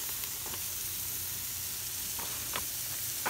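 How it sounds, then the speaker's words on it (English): Hamburgers, some topped with cheese, sizzle on a cookout grill, a soft steady frying crackle with a few brief scraping clicks, heard without talk. "Making little delicious hamburgers, some with cheese."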